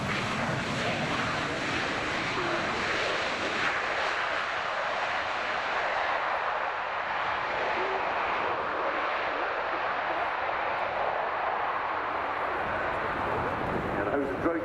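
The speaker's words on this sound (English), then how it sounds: "this is the IDS model, the Strike Tornado, coming into land" A Panavia Tornado IDS strike jet comes in to land, its jet engines producing a loud, continuous broadband roar that holds steady throughout.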